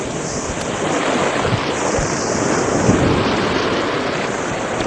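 Ocean surf washing in at sunset on a December evening in 1977, heard from standing in the water: a steady, close wash of waves with some wind rumble across the microphone, no voices.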